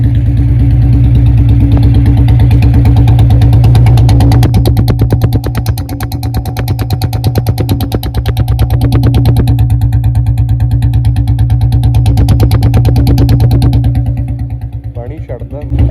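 A Bullet motorcycle idles at high RPM several minutes after a cold start. Its loud, close, rapid thumping exhaust beat is steady throughout, dipping slightly midway, with a voice faintly alongside.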